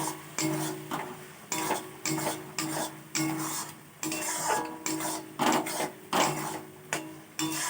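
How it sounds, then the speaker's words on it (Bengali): Curry is stirred in a cooking pan with a spoon in a steady repeating rhythm, scraping and clinking against the metal about twice a second, close and moderately loud. "তারপর আবার এটাকে নাড়িয়ে কিছুক্ষণ নাড়াবো"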